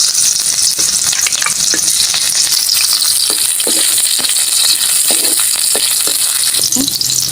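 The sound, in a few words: onion and garlic sautéing in a pan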